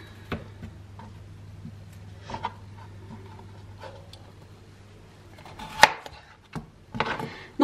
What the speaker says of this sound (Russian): Сейчас буду нарезать картофель.